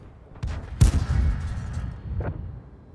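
A tank cannon fires in World of Tanks: one sharp, loud blast with a long rumbling tail, then a second, fainter report a little over a second later, with game ambience behind it.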